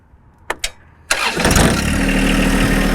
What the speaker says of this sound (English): then we're gonna go ahead and fire up the tractor.